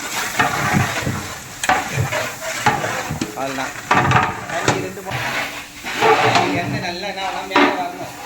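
Masala with onion, ginger and garlic is sautéed for a big batch of chicken biryani by a Cuddalore cook, with a steady loud sizzle broken by repeated scraping stirs while voices talk nearby.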